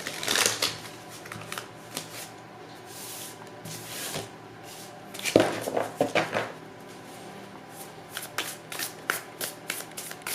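Tarot and oracle cards being shuffled by hand: bursts of papery riffling and flicking, close and fairly loud, with a sharper slap midway and clustered quick shuffles toward the end, no talking.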